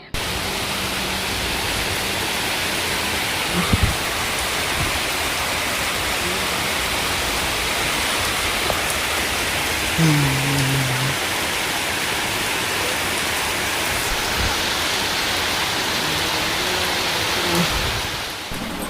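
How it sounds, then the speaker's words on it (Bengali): Steady rain falls in a dense, even hiss that fills the whole stretch without letting up, with a few faint distant bumps and a brief low tone beneath it. "এখন বৃষ্টি হলো একচোট"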